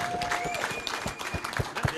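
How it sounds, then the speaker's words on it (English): An audience at a corporate charity breakfast claps as people stand for a student head girl, a dense round of applause with scattered sharp claps, close and continuous, with some talking underneath. "I request you all stand up and clap for her."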